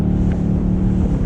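A 2018 Ford Mustang GT 5.0 V8 convertible drones steadily while driving, its engine and exhaust a loud, even low rumble with no pauses.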